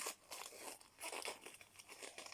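Paper wrapping torn and crinkled off a LOL Surprise boy doll toy, a quick series of soft rustling rips and crumples at close range.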